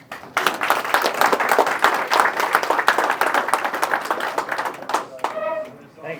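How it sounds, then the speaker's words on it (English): An audience at a radio club meeting claps after a lecture, a lively burst of many hands slapping in quick, uneven rhythm, close and fairly loud, then fading out as a voice begins speaking at the end. "Don't forget to clap."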